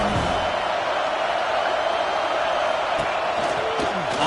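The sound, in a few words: football stadium crowd cheering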